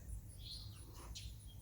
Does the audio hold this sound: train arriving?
no